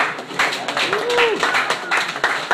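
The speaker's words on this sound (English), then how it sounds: "Clap your hands for yourselves being part of this whole thing" Live audience at a producers' beat camp in Miami claps together, a steady dense patter of many hands filling the room, with voices mixed in underneath.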